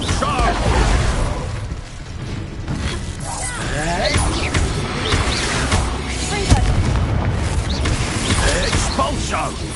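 Expulso explosion spells in Hogwarts Legacy combat, a continuous loud run of booms, bursts and crashing debris, with voices talking over the chaotic blasts.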